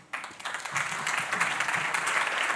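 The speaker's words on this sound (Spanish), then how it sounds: "Más fuertes aplausos" Audience applause at an education conference, a dense burst of clapping that starts abruptly and swells into a steady, fairly loud ovation filling the room.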